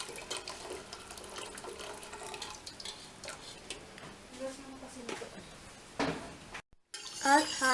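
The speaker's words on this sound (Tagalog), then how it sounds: "At haluin natin ang hot water at ang powder." Hot water and mango jelly powder are stirred together: soft, close clinks and swirling liquid with light scraping, ending in a brief pause and a sharper burst of rattling.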